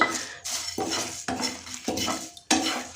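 Dry spice mix roasting in an oil-free pan for mango pickle, stirred in about five rough scraping strokes against the metal, with a faint dry crackle between strokes and no voices.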